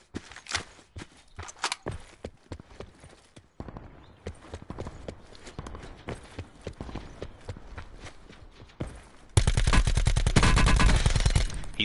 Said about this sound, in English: He's returning fire!